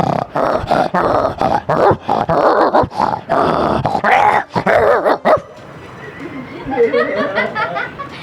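A voice imitates dogs growling and fighting, loud close snarls and yelps in rapid bursts, then lower whimpering sounds.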